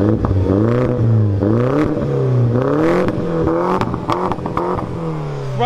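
A car engine with engine problems revs repeatedly up and down, loud and close, with rising and falling pitch and some rattling clatter.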